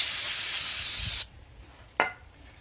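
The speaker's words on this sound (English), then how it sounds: "spray some brake cleaner on the rack." Brake cleaner sprays in a loud, close hiss for over a second onto the rear strut rack of a 2013 Chevrolet Impala, then stops, followed by a second short burst.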